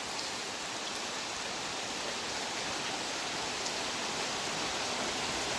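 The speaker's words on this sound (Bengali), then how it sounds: "একবার রাত থেকে এরকম ঝুম বৃষ্টি আপনার, মানে সব এই দেখেন পানি কি পরিমাণ পানি হয়েছে এখানে দেখেন।" Heavy downpour that has lasted from night into morning, flooding crop fields: a steady, even hiss of rain throughout, with no voices.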